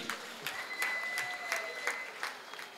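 Audience at a Tamil pattimandram debate stage event clapping in bursts, several sharp rhythmic claps standing out above a thin spread of applause, fairly quiet and distant.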